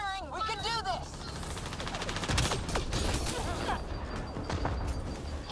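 Rapid video-game gunfire crackles in dense bursts, a near-continuous fusillade of sharp shots with some crashing impacts, while voices talk over the shooting.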